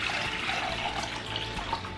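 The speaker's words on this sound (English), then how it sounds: "I'm just going to pour that right in here." Four cups of dark dandelion tea poured into a pot for dandelion jelly, a steady close splashing and trickling stream of liquid running the whole time with no talking.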